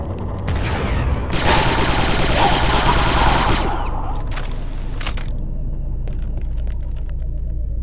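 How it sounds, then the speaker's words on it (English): Rapid bursts of projectile gunfire in the video game Star Wars: Republic Commando, a loud sustained rattling volley followed by a shorter second burst over a low rumbling background. "I didn't think anyone used projectile weapons anymore."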